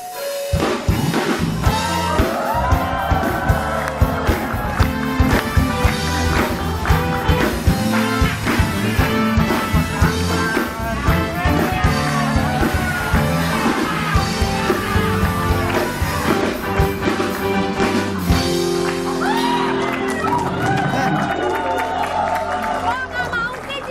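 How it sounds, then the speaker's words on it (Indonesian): Studio audience on an Indonesian TV talk show clapping and cheering loudly, a dense sustained roar of applause with yells and crowd babble over music, continuous for the whole stretch. "Tepuk tangan"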